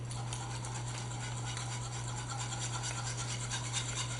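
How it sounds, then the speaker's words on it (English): Garlic is whisked by hand into a grits, pancetta and turnip greens soufflé mixture, giving a steady, continuous scraping rasp with a low background hum and no talking. "And finally, our garlic. And we'll just whisk it all together very carefully."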